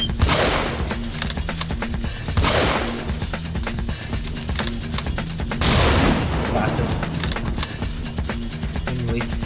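Continuous automatic gunfire in a squirrel video game, loud rapid bursts layered over each other with heavier swells of shots and booms every few seconds, filling the whole stretch.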